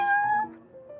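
A cat meows in the Genshin Impact video game, a single drawn-out, fairly close call that tapers off over about a second.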